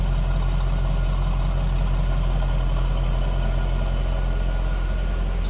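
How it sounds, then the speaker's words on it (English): A stock 2003 Chevrolet Corvette 50th Anniversary coupe idles from behind the car with a deep, steady, even rumble, loud and unbroken for several seconds, with no voices. "It's that stock Corvette rumble to it."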